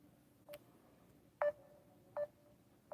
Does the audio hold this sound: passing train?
no